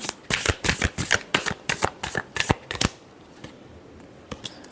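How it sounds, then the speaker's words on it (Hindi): Tarot cards shuffled in a rapid run of crisp riffling bursts for about three seconds, then a quiet pause with a few soft card taps, close and alone with no talk. "last shuffle"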